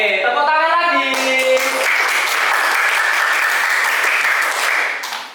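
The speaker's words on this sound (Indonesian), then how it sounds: "Oke, tepuk tangan lagi." Applause from a classroom audience, steady and loud for about five seconds, starting under a short burst of speech and fading at the end.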